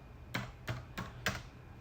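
Four separate keystrokes on a computer keyboard as the command to delete a default VPC is entered, each a crisp, close click spaced evenly about a third of a second apart against a quiet room.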